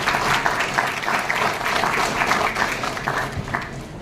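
Steady applause fills a conference hall as an invited guest is welcomed onto the stage at a ministerial inauguration event, dense clapping from a large audience throughout with no pauses.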